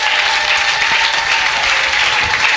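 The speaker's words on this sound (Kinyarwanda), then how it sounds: "Mbega twakomera Imana amashyi." A congregation in church claps together in steady, dense applause, loud and sustained throughout with no break.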